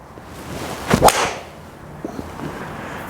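A sharp swish and crack of a TaylorMade SIM2 Rescue hybrid club hitting a golf ball, close and single, followed by a quiet pause.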